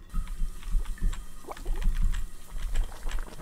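Water running in a shower in the video game Blue Wednesday, a steady splashing, gurgling flow with uneven watery pulses, fairly close and without any speech.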